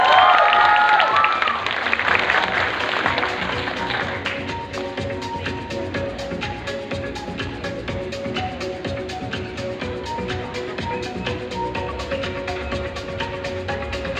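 An audience at a university freshers' pageant crowning breaks into a round of applause and cheering, loudest at the start with excited voices, then settling into steady, dense clapping for the rest.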